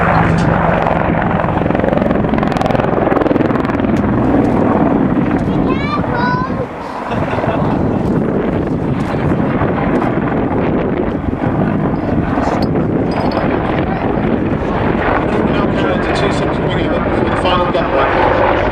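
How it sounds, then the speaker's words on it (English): A British Army Apache attack helicopter flies a display at the Duxford D-Day airshow, its loud rotor thrum and turbine roar continuous throughout with wind buffeting the microphone, briefly dipping midway, with a commentator's voice faintly beneath. "All UK Apaches are operated by the British Army"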